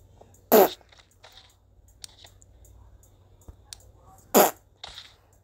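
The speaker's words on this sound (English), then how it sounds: "that fart sound" Two short, loud fart sound effects, separated by a few seconds, with faint clicks and rustles between them.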